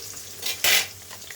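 Garlic and bay leaves frying in oil over medium heat, with a soft steady sizzle, a couple of brief louder bursts of spitting and stirring, and no talking.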